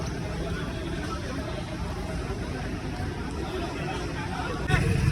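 Bustle at a Patiala vegetable market: a steady babble of many distant voices with faint traffic noise underneath, continuous and moderately quiet, with a brief louder thump near the end.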